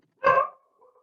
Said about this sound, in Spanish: Y está el perro ladrando.